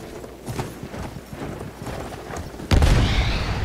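A horse clip-clops at a gallop in the Battlefield 1 video game, a fast run of hoof beats that is moderately close, followed by a sudden loud burst of game noise near the end.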